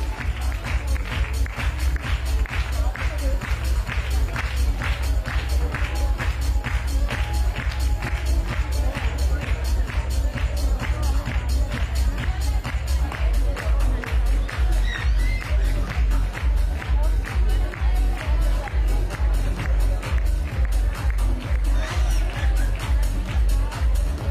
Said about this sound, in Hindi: अपना मास्क लगा लीजिए और तालियां बजाते रहिए एवरीबॉडी